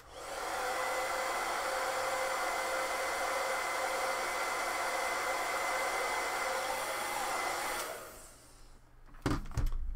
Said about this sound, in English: Hit that with the hairdryer.